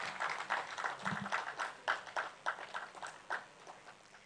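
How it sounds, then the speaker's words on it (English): Audience keeps clapping as a panelist takes her seat at a creative-industry business panel, a sparse, uneven patter of hands from a medium-sized crowd, fairly faint and roomy. "Please keep clapping till she sits down."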